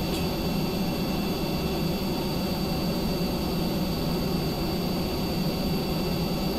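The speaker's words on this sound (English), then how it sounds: "Why is it throttling down so much?" The simulated jet engine of an F-104 replica in Kerbal Space Program drones as a steady, even whooshing roar with a faint high whine, holding constant without clear change throughout.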